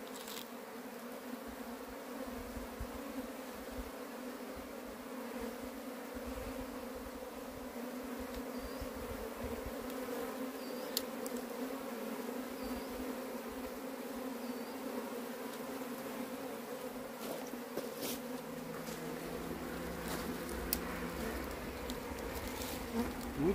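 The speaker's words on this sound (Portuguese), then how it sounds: "Tem muita, ó, abelha subindo." A bee colony swarms densely around and climbs into a hive box outdoors, a steady, loud insect hum continuing throughout with no speech.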